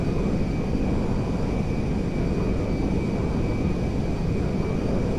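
A Phenom 100 jet in GTA 5 gives off a steady, loud engine roar with a faint high whine over it, unbroken and close throughout.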